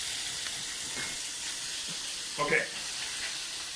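Vegetables fry in a big skillet, making a steady, soft sizzle throughout with a brief clatter of stirring midway, and one short spoken word over the hiss.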